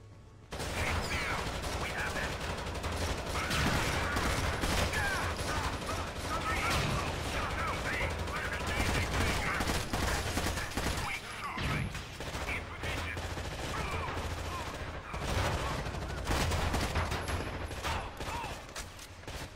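Dense, sustained gunfire fills a Tom Clancy's Rainbow Six Vegas firefight, loud continuous bursts and rattling shots with mechanical clatter running the whole way through, and voices shouting beneath.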